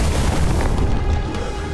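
A weapon's alternative fire sets off a heavy explosion in a Doom-like first-person shooter, a loud sustained boom with a dense rumbling roar that slowly tapers off over nearly two seconds.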